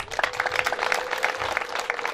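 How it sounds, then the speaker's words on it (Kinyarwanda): Wedding guests applauding the groom at a Rwandan wedding, dense continuous clapping close by with a busy crowd texture; no clear ululation stands out. "ndagira ngo mubanze mumuhe amashyi n'impundu"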